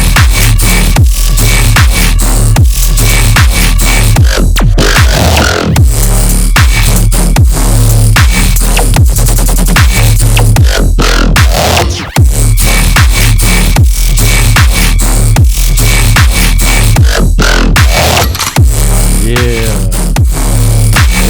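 A wonky growl bass synth in a full mix plays throughout, a loud, dense wobbling electronic bass with rhythmic drum hits and no vocals.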